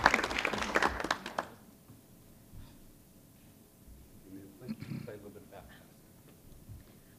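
A brief burst of applause at a city council meeting, loud clapping for about a second and a half that quickly dies away, followed by quiet room sounds and faint speech.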